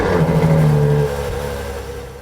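2015 Ferrari F12 Berlinetta engine revving, a loud, deep held rev for about a second that drops off into a lower, fading idle-like rumble.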